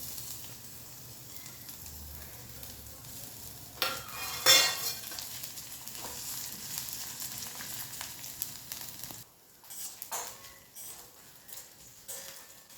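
Spices and bay leaf temper in hot oil for a Bengali dish, giving a faint, soft sizzle with bursts of stirring and a clatter of utensils, then a short quiet pause before more scraping.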